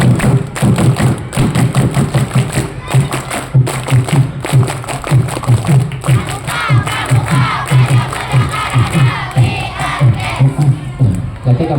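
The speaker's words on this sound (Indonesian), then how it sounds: "3 kali tepuk pramuka." A crowd of children performs the scout clap, tepuk pramuka, three times, with loud rhythmic rounds of clapping and chanted shouts filling the space, close and energetic, ending in a burst of cheering.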